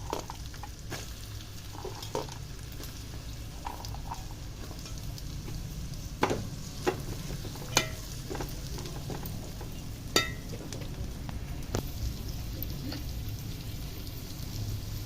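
Onion pieces frying with raw prawns in hot oil for a prawn and jackfruit seed curry, a steady soft sizzle with occasional sharp pops and spatters, alone without voices.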